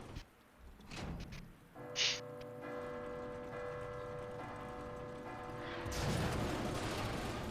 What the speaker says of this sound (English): And that'll ring the bell.